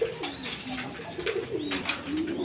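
Close, steady cooing from a pair of new adult Giribaz pigeons, the low rolling calls repeating throughout with no talk over them.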